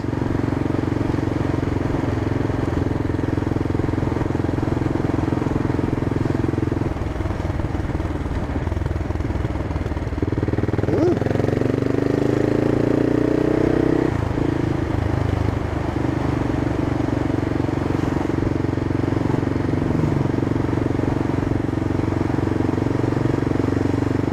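A CCM Flat Tracker motorcycle engine runs steadily at close range, a constant mid-pitched hum with a short rise in revs midway before settling back to an even drone.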